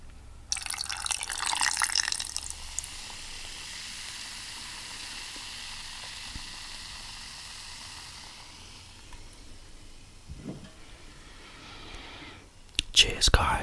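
Coca-Cola Zero Sugar is poured into a glass, giving a steady, close fizzing and crackling of carbonation that lasts several seconds. A soft whispering voice is heard alongside it.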